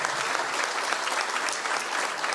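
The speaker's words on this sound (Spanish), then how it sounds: "Gracias por el aplauso para ella." Steady audience applause for a Guatemalan community resilience leader at a climate change event, a dense even rattle of many hands clapping together, close and continuous throughout.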